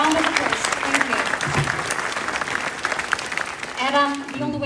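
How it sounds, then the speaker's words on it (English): Applause from an audience at a question-and-answer session at the UN City in Copenhagen, steady clapping throughout with a speaker's voice cutting in near the end. "A round of applause."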